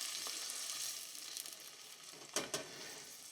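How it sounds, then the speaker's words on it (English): Bacon and peas reheating together in a pan give a soft, steady sizzle at close range, with a couple of brief louder crackles or stirring clatters near the end. "all that you want to do is just have the bacon and everything else reheating in the pan together"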